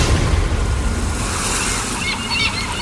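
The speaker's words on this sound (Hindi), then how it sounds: "सुबह नींद खुली समंदर की लहरों की आवाज से" Sea waves washing in steadily, a loud continuous surf roar with a low rumble and a hiss of foam, no voices over it.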